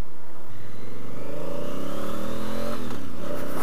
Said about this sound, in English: Great sound on this bike.